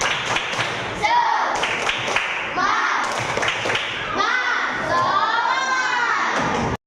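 Children in a classroom join in a rhythmic group clap and cheer, with bursts of patterned clapping, shouting voices and thumps, fairly close and lively, alternating with a teacher's voice leading them.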